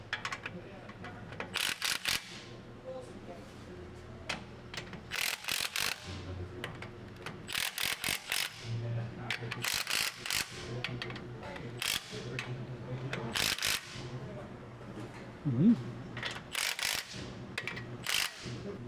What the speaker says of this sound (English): and then we can hit it with the torque wrench.